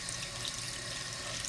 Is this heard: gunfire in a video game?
no